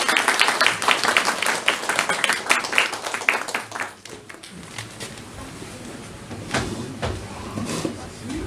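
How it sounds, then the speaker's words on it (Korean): Applause from a church congregation welcoming a doctor to speak at a Thanksgiving service, dense clapping for about four seconds that then fades, followed by scattered claps and shuffling. "우리 선생님 이제 나오실 때 우리가 환영의 박수를 보내드리겠습니다."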